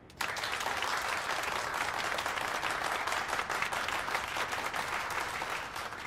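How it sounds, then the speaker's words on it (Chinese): Audience applause welcoming a new law-department teaching assistant in a university classroom, steady dense clapping from many hands that starts abruptly and holds for about six seconds, fairly close and full. "大家掌声欢迎"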